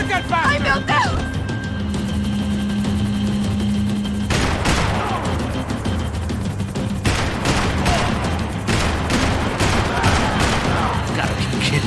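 Gunfire crackles in Max Payne 3 during a chase, with bursts of rapid shots and heavy impacts over vehicle noise and shouting voices.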